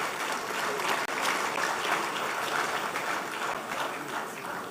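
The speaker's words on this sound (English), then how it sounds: "Give them a big hand of applause" Sustained applause from a large audience at a formal dinner ball honouring a traditional ruler in Ghana, steady and dense throughout, with only a faint hint of voices underneath.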